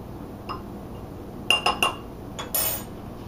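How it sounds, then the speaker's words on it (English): A utensil stirring baking powder and salt into flour in a bowl for an Italian grape cake, giving a few bright, close clinks against the bowl in a short cluster, then one more scrape and clink. "then you're just going to stir that up"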